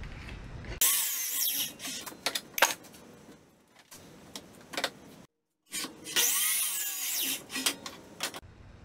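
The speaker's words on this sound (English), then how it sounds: "I'll cut this out on the miter saw, and each zig and zag is going to be another bracket." A miter saw cuts a zigzag wooden board into shelf brackets, with two loud bursts of whining blade noise separated by a short silent pause and scattered clicks and knocks in between.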